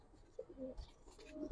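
Pigeons coo in short, soft bursts near a pen of young Giribaz pigeons, with faint background noise between the calls.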